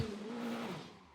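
Engines of a field of Praga race cars in a VR driving game rev and roar together at the start of a race, one brief, loud, steady burst of engine tone.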